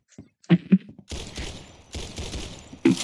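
Gunshots in a first-person shooter video game: a couple of sharp close shots, then bursts of dense gunfire with brief gaps and a final shot, loud and without speech.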